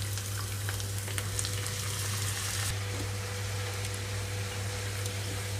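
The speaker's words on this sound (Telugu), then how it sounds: "ఇది మొత్తం కలిపేసేసి రెండు నిమిషాల పాటు వేయిస్తున్నానండి" Amaranth leaves frying with onions and chana dal in a pan, a steady close hiss and crackle of oil with a few stirring scrapes, no voices.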